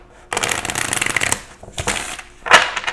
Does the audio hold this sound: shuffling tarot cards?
yes